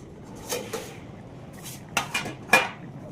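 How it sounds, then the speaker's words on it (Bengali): A metal lid lifted off a cooking pot of dal with several sharp clanks and clinks close by; two soft knocks come first, then a quieter gap, then a cluster of bright rattles. "তো এবার আমরা ঢাকনাটা খুলে দেবো, দেখি কত কি হলো।"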